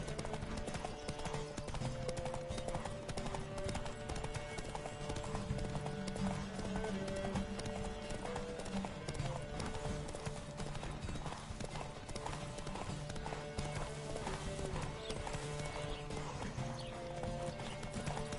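Rapid clip-clop of galloping hooves in a horse race in the video game The Witcher 3 runs continuously, with occasional whinnies and faint voices mixed in under a busy, game-like soundscape.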